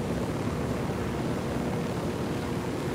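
Helicopter in Ghost Recon Wildlands, a steady, loud broadband rotor and engine roar that holds evenly throughout, with no talk over it.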